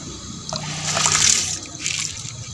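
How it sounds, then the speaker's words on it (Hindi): Water being poured into a kadhai while cooking whole masoor lentils: a steady trickling splash that swells in the middle and tapers off, close and alone, with no talking. "अब हमने कढ़ाई में पानी शामिल कर दिया है।"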